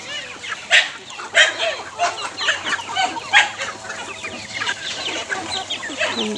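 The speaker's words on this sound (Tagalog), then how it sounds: "Daghana ka yung manok guys." Chickens on a small farm clucking repeatedly in busy overlapping bursts, moderately close, with occasional dog barks among them.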